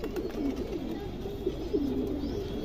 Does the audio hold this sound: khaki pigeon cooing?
yes